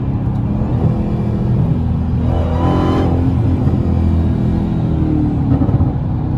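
A Ford Mustang GT350 with a loud intake pulls hard in third gear, its engine note rising into a steady, close, full-throttle roar and rumble.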